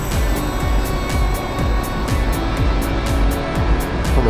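Peugeot Metropolis SW three-wheeled scooter cruising on a Tenerife motorway, its engine holding a steady, loud drone near 5000 rpm with wind rush and a faint rhythmic thump throughout.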